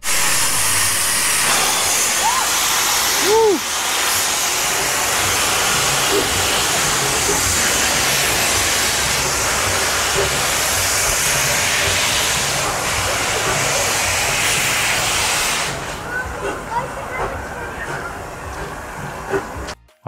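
Heritage steam locomotive on the Umgeni Steam Railway at Inchanga, hissing a steady, loud broadband rush of steam that runs for about fifteen seconds, then drops away to quieter background with a few faint knocks.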